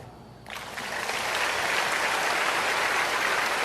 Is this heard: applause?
yes